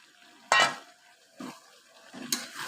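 Jackfruit pieces drop into a pan of sautéed potato curry: a soft thud and scrape, followed by two quieter stirring scrapes, all close and fairly faint against near silence.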